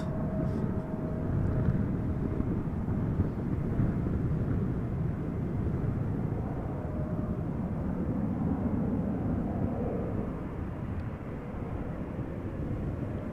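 An Embraer 190 airliner in Lycifer Chocolaterie special livery arrives at Amsterdam Schiphol in crosswind, a low, steady jet rumble with a faint whine, heard from a distance without voices.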